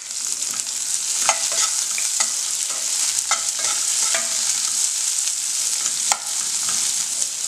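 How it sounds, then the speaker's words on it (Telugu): Chopped onions and green chilli sizzle in a pan for paneer pulao, a steady close frying hiss broken by repeated scraping clicks from stirring. "నెక్స్ట్ ఇందులో నేను చెక్కుగా కట్ చేసి పెట్టుకుని ఉల్లిపాయ ముక్కలు అనేది వేసేసుకుంటున్నాను"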